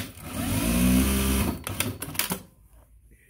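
Juki DDL-8700-7 industrial sewing machine stitching through four layers of heavy canvas, a loud close whirring run of about one and a half seconds, then a few sharp mechanical clicks and clunks before it stops.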